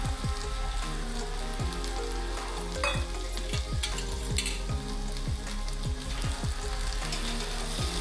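Fried paneer cubes stirred into a spiced biryani masala in a pan, a steady loud sizzle with repeated scraping stirs of a spoon throughout, no voices.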